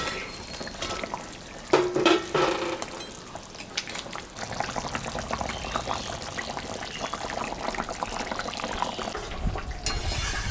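Fish pieces going into a simmering red fish curry, with a brief burst of splashing and sizzling followed by a steady bubbling, frying hiss from the pot, close and moderately loud, with no talking.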